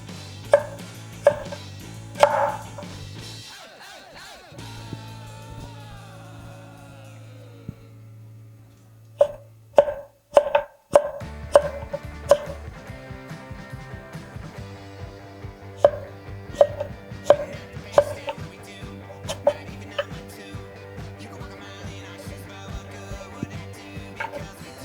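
A santoku knife slicing through squash into planks on a cutting board, with sharp, crisp chops and taps spaced irregularly, some quick runs of cuts, close and clear with long quiet gaps between bursts.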